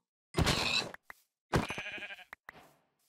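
Sheep in the video game Minecraft give two loud, close bleats, each followed by short clicks and thuds from the game, with nothing else in the background.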